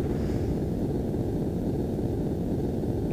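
A Eurofighter Typhoon jet in the EF2000 flight game rushes low past industrial buildings, a steady, dense engine and wind roar with no variation throughout.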